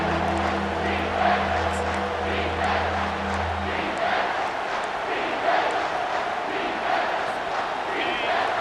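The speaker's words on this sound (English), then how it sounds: "Third down, and this crowd is tearing the lid off this place." A packed stadium crowd at the Auburn versus Alabama college football game roars on third down, a loud sustained wash of cheering that swells and holds, with a low droning tone fading out partway through.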